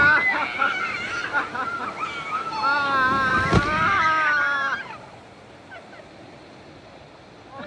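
Heavy water splashing and rushing from a waterfall at a water park ride, loud and close for a few seconds with excited voices, then fading to a quieter wash.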